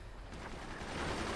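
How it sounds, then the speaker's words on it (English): Mortars fire in the strategy game Forts as a faint, muffled stream of overlapping booms that builds slightly toward the end, with no other sounds standing out. "Keep firing the mortars."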